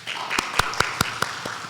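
A church congregation claps in welcome. Sparse, evenly spaced sharp claps ring out about every fifth of a second, close and distinct rather than a full applause.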